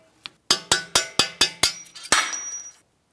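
Hammer and punch tapping a mounting bolt out of a front lower ball joint assembly on a 2007-2014 Ford Edge: one light tap, then six sharp, evenly spaced metallic strikes and a final ringing hit, close and loud, with no talking.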